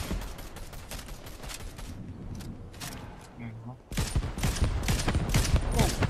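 Bursts of rapid gunfire in Fortnite crackle in dense volleys, pause briefly, then return louder and heavier, with a player talking over the shooting.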